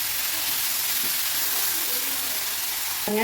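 Onions and tomatoes sauté in hot oil in a pan with a continuous, even hiss and sizzle, close and steady throughout, with a brief higher tonal squeak near the end.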